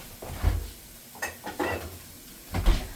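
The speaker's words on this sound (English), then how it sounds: "I'm just gonna cook these onions down a little bit" Onions cooking down in a pan, with intermittent stirring clatter and utensil clinks over a low sizzle, in a few short bursts close by.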